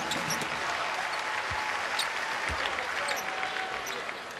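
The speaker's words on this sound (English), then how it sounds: "Dad applauds." A father applauds among a basketball crowd at a Nebraska versus Iowa game, the steady clapping blending into arena crowd noise with a couple of ball bounces under it.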